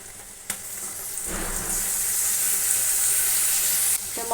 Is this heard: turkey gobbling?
no